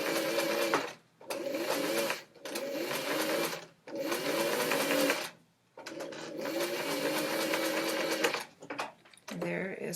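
A sewing machine stitches a curve on the facing of a Greenstyle Sundance jacket in several close, loud bursts of rapid whirring, with brief pauses between runs.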